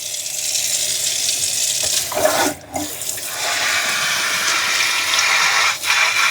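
Water runs steadily from a tap into the clean-water tank of a MOVA Z60 robot vacuum mop, a loud continuous splashing gush with brief breaks as the stream shifts.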